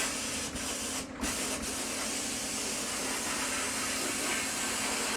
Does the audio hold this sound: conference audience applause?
no